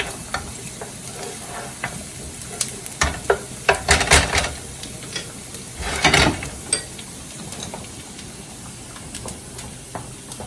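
Linguine with clam sauce stirred in a pan, soft scraping and gentle sizzling with a few louder clattering bursts of utensil against pan, fairly quiet and close, no voices.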